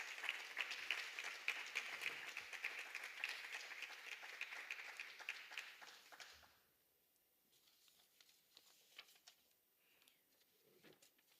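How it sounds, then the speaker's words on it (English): Round of applause from an award ceremony audience, a dense crowd clapping steadily for about six seconds before cutting off abruptly, leaving only a quiet room with a few faint scattered sounds. "Let's give them a round of applause."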